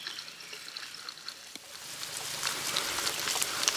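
Light rain patters steadily in the backwoods near Angkor Thom in Cambodia, a soft hiss of drops that swells slightly toward the end, with no one speaking.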